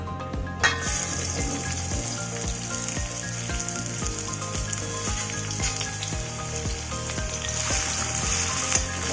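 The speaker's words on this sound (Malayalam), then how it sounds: "ഓയിൽ ചൂടാവുമ്പോൾ നമുക്ക് ഓരോ ടേബിൾ സ്പൂൺ വീതം ഇഞ്ചിയും വെളുത്തുള്ളിയും ചതച്ചതും കറിവേപ്പിലയും പച്ചമുളകും കൂടി ആഡ് ചെയ്ത് കൊടുക്കാം." Crushed ginger, garlic, curry leaves and green chilli hitting hot oil, a steady close sizzle and crackle that continues throughout with faint stirring and no talking.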